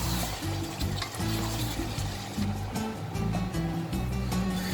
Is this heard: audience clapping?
no